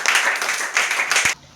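A classroom of fifth-grade children claps in unison, three quick rounds of loud, rhythmic applause that stop abruptly.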